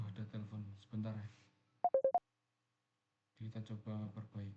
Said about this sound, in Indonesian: nah tuh ada telepon sebentar ya